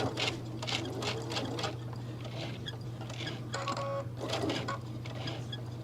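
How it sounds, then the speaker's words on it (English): A sewing machine back stitches through thick fabric while making a lattice clutch bag, a fast steady needle patter over a constant motor hum, close and moderately loud, with no talk. "I'm going to back stitch a little bit"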